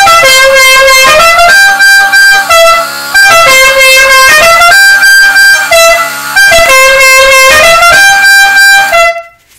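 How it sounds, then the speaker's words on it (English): A loud Wolo Dixie musical air horn on a 2006 Mazda 6 plays a repeating multi-note tune, close and blaring, then cuts off. "This is the Dixie horn on a Mazda 6 2006."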